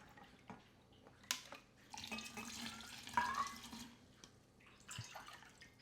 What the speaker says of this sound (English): So let me get my water. I measure out 4 cups of water.